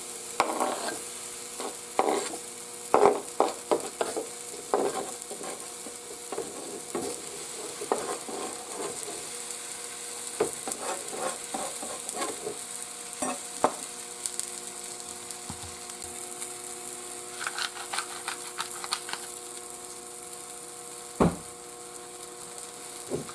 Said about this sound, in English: I'm going to put it on the grill and do the same thing to the other side while it's on the grill